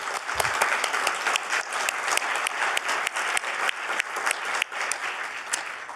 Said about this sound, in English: So can I please get a round of applause for these two co-chairs?